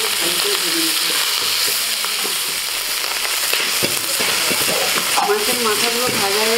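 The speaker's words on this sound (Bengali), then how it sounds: "মাছের মাথাগুলো ভাজা হয়ে গেছে" Fish heads sizzle and crackle in hot oil in a pan, a steady loud frying hiss with scattered pops and occasional stirring scrapes throughout.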